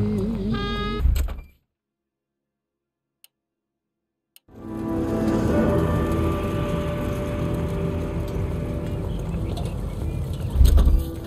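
Car from the L.A. Noire video game driving, a steady engine drone with broad road noise running for about seven seconds after a short burst of sound and a stretch of silence, with speech faintly mixed in.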